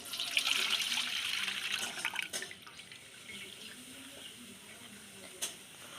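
Water from a green coconut pouring into a container, a close splashing, trickling stream that is strongest at first and then fades to faint drips, with a brief clink near the end.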